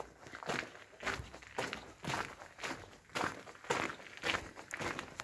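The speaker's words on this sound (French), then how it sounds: "un petit chemin de cailloux, donc ça fait un petit bruit de pas de cailloux" Footsteps crunch along a small gravel path in a village, a steady walking rhythm of close, distinct crunching steps with no talking.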